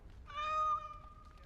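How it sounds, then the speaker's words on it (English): A single drawn-out cat meow from the video game Dragon Age: Awakening, clear and close, with a synthetic, uniform tone over a faint low background hum. "The meow is always the same."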